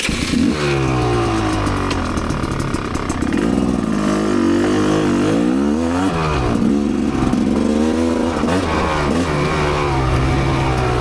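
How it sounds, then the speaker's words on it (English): A 2023 Rieju MRPro 300 dirt bike ridden along a trail, its engine revving hard and close with rising and falling pitch as the throttle opens and closes, continuous and loud throughout. "So today I'm riding my Rieju, or 2023 Rieju MRPro"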